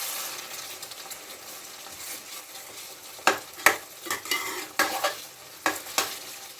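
Egg curry in a pan is stirred with a spoon, a soft sizzle under a run of sharp scraping strokes that grow busier in the second half, close and fairly loud.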